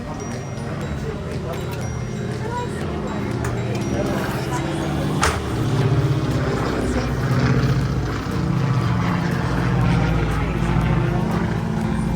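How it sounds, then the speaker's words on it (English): A propeller airplane drones steadily overhead, its low rumble swelling a little toward the end, with faint outdoor background noise. "Sorry about the airplane flying overhead."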